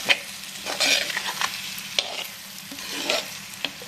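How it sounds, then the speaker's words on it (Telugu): Spice powder being stirred into a curry in a frying pan, for a salted fish and brinjal dish: close scraping stirs and clinks over a soft, steady sizzle, with no voices. "చిన్న స్పూన్, హాఫ్ స్పూన్ దీంట్లో వేసి తిప్పుతున్నా"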